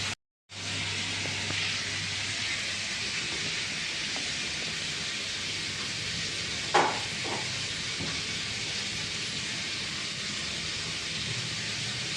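Chicken pieces hit hot tempering in a home kitchen pan, bursting into a loud, steady sizzle after a brief silence and holding an even hiss throughout.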